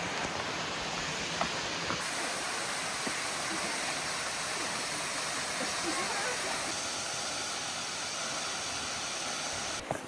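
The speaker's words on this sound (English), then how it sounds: "On to Mirror Falls." Mirror Falls waterfall in an old-growth forest on Washington's Olympic Peninsula, a constant loud rushing roar heard close by, with faint talk in the background.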